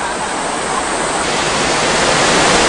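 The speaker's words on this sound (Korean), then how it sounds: "이 바위를 타고 내려오던 시원한 물소리가 오랫동안 제 귀에 맴돌 것 같습니다." Water cascading down the rocks of Hongyudong valley, a mountain stream in Korea, makes a loud, steady rushing roar throughout, close by, with no voices heard.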